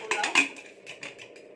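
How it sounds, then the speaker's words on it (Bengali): Metal clatter and clinks of a pressure cooker lid being fitted and locked shut on a pot of vegetarian pulao, a few sharp close knocks then lighter scrapes, no talking. "এবারে আমি কুকারের ঢাকনাটা আটকিয়ে একটা সিটি দিয়ে দেব"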